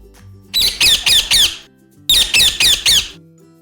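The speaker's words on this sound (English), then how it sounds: "Tota. Parrot. Parrot." Parrot squawking in two loud bursts of four sharp, grating calls each, evenly spaced and close, with no talking over them.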